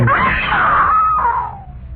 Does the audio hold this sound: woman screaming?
yes